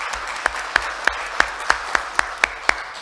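A few spaced hand claps, about one every third of a second, ring out in a meeting hall as an election committee chair is introduced at an architects' association candidate debate.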